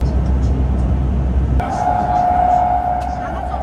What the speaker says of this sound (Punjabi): ਆ ਗਈ ਵੀ ਮੈਟਰੋ